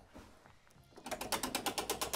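A roulette wheel spun in a party game gives a rapid, evenly spaced ratcheting clatter after a quiet moment, close and fairly loud, with no one talking.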